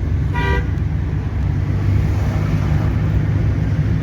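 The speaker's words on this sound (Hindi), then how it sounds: "ओवरटेकिंग पे हॉर्न एक बार और दे दिया करो" A single short car horn toot sounds early over a steady, loud road and engine rumble from inside a moving vehicle.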